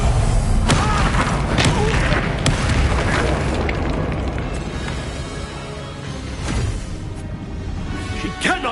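A Confringo fire spell detonates in the Hogwarts Legacy video game, a loud booming blast followed by a rumbling tail and scattered crackling bursts, with game voices speaking over it.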